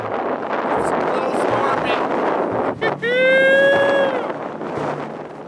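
Strong wind gusting across the Grand Canyon ahead of a snowstorm, gusts near 45 miles an hour, a loud steady roar buffeting the microphone throughout, with a brief bird-like whistle and a voice near the middle.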